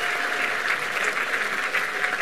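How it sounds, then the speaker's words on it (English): A crowd at the Project Inspire Convention 2019 applauds contestants on stage, producing an even, sustained patter of many hands clapping at moderate loudness with no voices over it. "Ladies and gentlemen, a big round of applause for our contestants here."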